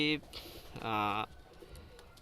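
Pakistani high-flyer pigeons give a few short, soft coos close by, mixed with a quiet voice speaking.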